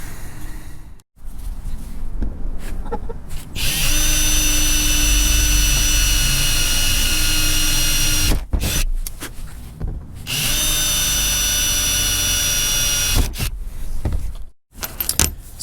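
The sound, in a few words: power drill drilling through camper fiberglass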